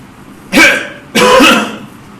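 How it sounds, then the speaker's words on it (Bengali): Two forceful coughs, each a sharp, loud burst close to the listener, come about half a second apart during a breathing exercise to clear the lungs. The second cough is slightly longer. "এভাবে কাশি দিয়ে করব"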